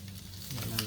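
Meat sizzles and hisses in a hot pan as it is flipped over for dinakdakan, a steady close frying crackle that swells louder partway through.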